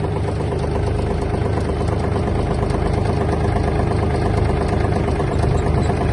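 A Japanese Kubota L1-185 mini tractor engine runs steadily, a loud, close, even diesel drone with a low throb and light mechanical clatter throughout, no voices.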